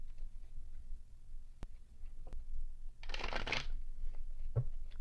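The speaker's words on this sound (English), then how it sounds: "So let's shuffle one more time." A deck of tarot cards is shuffled in one quick riffling burst lasting under a second, close and fairly loud against a quiet room, with a few faint taps before and after.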